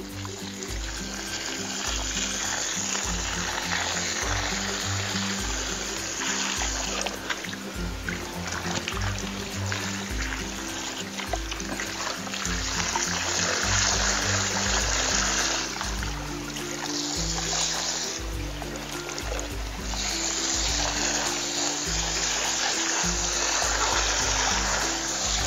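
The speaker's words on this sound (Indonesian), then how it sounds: "Ini kita semprot pelan-pelan ya." Water from a garden hose sprays gently onto plants in an aquaponic growing bed, a steady, loud hiss and patter that continues throughout with small shifts in intensity.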